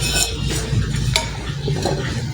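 Mutton kunna being served out of a heavy degchi cooking pot, a near steady clatter of a metal spoon scraping and clinking against the pot, with a brief sharper clank midway and no talk.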